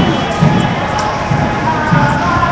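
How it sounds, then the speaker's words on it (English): A loud crowd of 300 to 400 people at a street march on the way to Van Ness Market, a constant dense murmur with faint voices and scattered thumps. "we have a good crowd, about 300 to 400 people"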